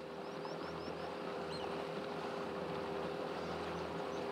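Motorboat cruising along a river in the Cuero y Salado reserve in Honduras, a steady engine hum with wind and water noise. A few faint bird calls sound above it.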